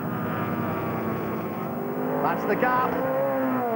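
Lotus Cortina race cars at Thruxton in a pre-1965 saloon race, braking into Club Chicane: a steady, loud engine drone with shifting pitch as the cars pass close, under continuous race commentary.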